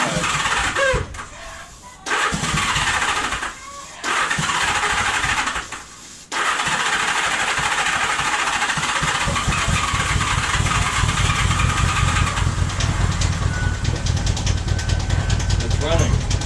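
A 1978 Honda Goldwing motorcycle engine cranks in a few bursts, stalls between tries, then fires and settles into a steady, loud running rumble with speech mixed in near the start.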